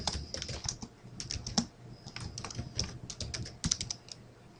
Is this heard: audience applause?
no